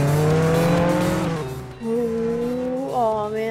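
An in-game car in Roblox Jailbreak drives with a loud, steady engine drone whose pitch drops and climbs as it shifts and accelerates, close and continuous throughout.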